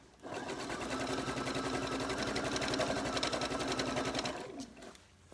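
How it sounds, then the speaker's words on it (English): A sewing machine runs steadily at high speed, stitching a long basting seam down fabric for a child's t-shirt dress, a continuous rapid mechanical whir that stops abruptly near the end. "I'm just going to run this all the way down"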